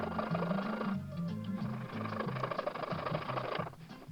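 A corner of the headlamp unit on a diecast model car is sawn off in a steady, continuous rasp that runs for several seconds with rhythmic strokes, close up, with no voices.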